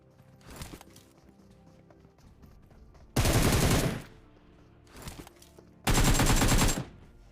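Gunfire in the mobile battle-royale game PUBG Mobile, two loud sustained automatic bursts of about a second each, with fainter scattered shots between them.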